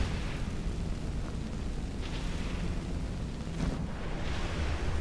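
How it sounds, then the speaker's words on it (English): A fire spell cast in the video game Skyrim gives off a loud, continuous roaring whoosh, a dense rumbling blast that holds steady for about five seconds with no talking. "Seriously, with the fire spell?"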